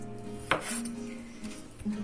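A knife chops soft beef or lamb into large pieces on a board: one sharp, close strike, then lighter cuts over a steady background hum.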